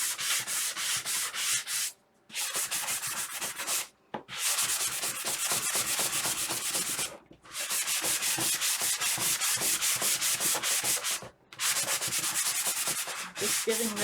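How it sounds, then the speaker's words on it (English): Rhythmic scratchy rubbing of sandpaper on wood, repeated quick strokes in bursts separated by brief pauses, close and continuous. "Just giving this a light sanding."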